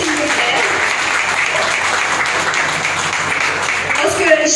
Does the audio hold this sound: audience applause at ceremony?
yes